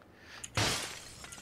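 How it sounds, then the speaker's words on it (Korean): Window glass shatters in the PUBG video game, a single sudden crash with a short scattering tail, fairly loud against quiet background game ambience. "창문 깨지는 소리"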